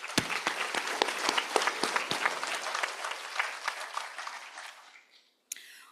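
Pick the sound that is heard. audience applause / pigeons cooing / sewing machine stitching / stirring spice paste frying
audience applause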